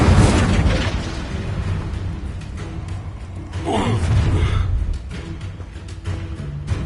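Incendio fire spell blasts in the Hogwarts Legacy video game, a dense booming roar of fiery bursts and rumbling impacts with a swelling whoosh in the middle, loud and continuous over a busy game mix.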